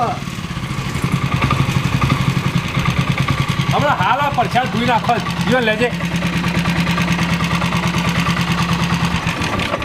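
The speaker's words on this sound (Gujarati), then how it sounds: "એન્જિન તો પાવરફુલ લાગે છે હો ભાઈ" An engine runs steadily and loudly close by with a low, even throbbing drone that holds for the whole stretch while people talk over it.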